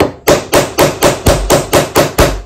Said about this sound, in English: I used the metal hammer,